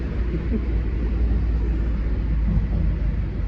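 A Mazda car driving on city streets in Portugal, heard from inside the cabin as a steady low engine and road rumble with constant broadband noise, and no talking over it.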